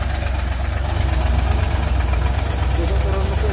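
A Hino truck engine idles with a steady, loud, low rumbling drone, thumping and knocking like a small single-cylinder dompeng motor, continuous and close throughout.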